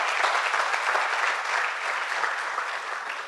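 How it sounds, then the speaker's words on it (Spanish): A church congregation claps together in a short burst of steady, dense applause, loud and even for a few seconds with no voices over it. "Dale ese aplauso al Señor."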